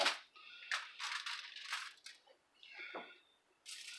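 Kosher salt is sprinkled over a large ribeye steak, giving a series of soft crackling, pattering bursts with short gaps, close and fairly quiet.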